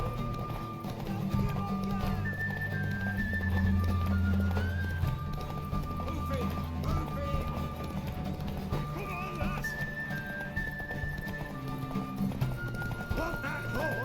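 Steady clip-clop of horse hooves at a walking pace in The Witcher 3, mixed with a soft musical score and some background chatter.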